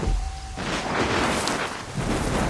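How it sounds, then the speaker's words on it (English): Thunderstorm with rain in Assassin's Creed Rogue, a loud dense wash of rain and wind with a deep rumbling surge, steady and close throughout. "The storm's getting worse."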